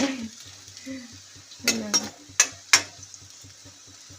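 Vada sizzles in a pan, a steady frying hiss with several sharp clinks of a utensil against the metal and soft stirring, while a voice speaks briefly near the start.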